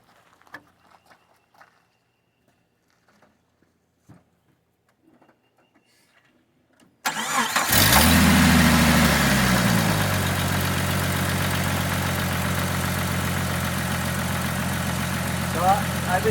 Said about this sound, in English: Starts and runs great.